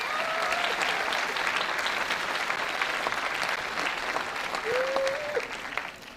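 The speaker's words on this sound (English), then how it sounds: "Please give a round of applause for Mr. Theo Wilson." An evening fashion show audience breaks into sustained applause for a moderator, a dense wash of clapping that fills the room and fades slightly at the end, with a couple of brief whistles or cheers.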